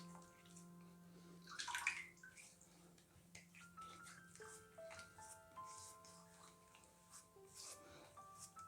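A tap runs quietly in the background as a face is rinsed after a shaving pass, with a brief louder splash near the start and soft steady water flow throughout, no talking.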